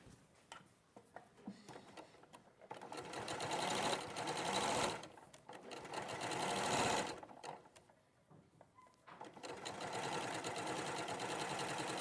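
A sewing machine stitches fabric in several sustained runs, its rapid mechanical whir rising and pausing between bursts, close and clear with quiet gaps in between.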